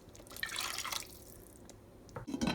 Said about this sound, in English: And then I am adding a cup of water to it.